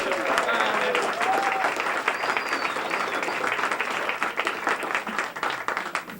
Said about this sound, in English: now we're going to do the applause like you really liked it